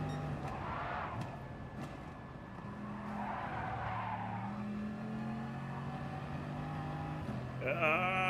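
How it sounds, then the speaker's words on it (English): A Bugatti in a racing video game drives and skids, its steady engine drone joined by sustained tire squeal that rises into a sharp, loud screech near the end, with no talking. "I've never used this Bugatti. This is a Bugatti. I've never used this car in this game."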